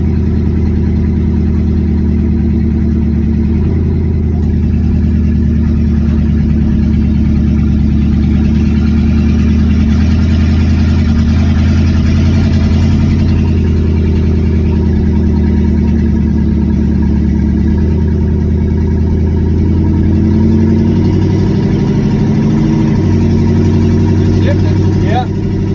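1972 Chevrolet C10 pickup truck engine droning steadily while driving, a loud, close, low rumble that holds fairly even throughout with slight shifts in pitch, and someone talking over it at times.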